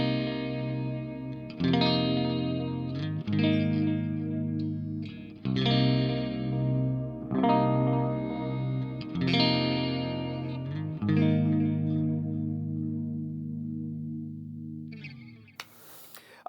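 Jackson Pro Series Misha Mansoor Juggernaut electric guitar on a clean tone, strummed chords ringing out with chorus shimmer and long sustain, close and clear with no talking.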